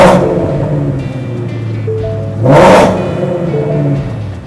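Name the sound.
muscle car engine revving with Kooks headers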